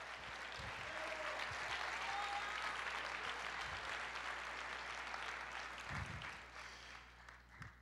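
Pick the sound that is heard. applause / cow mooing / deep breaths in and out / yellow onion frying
applause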